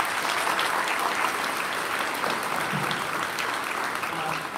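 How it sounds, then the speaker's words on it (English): Audience applause for the 5th and 6th grade band at a school music concert, a steady dense clapping that holds at even strength for several seconds before easing slightly at the end. "let's have one more round of applause for Mrs."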